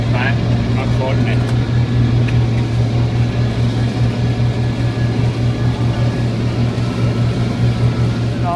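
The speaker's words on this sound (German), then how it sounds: "Traktor stoppt und fährt nach vorne" A tractor fitted with a Kverneland mulcher drones loudly and continuously at close range as it stops and drives forward, with a steady low engine hum and faint mechanical clatter, and someone talks over it.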